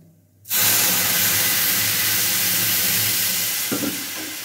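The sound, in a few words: milk poured into sizzling fried semolina in a pan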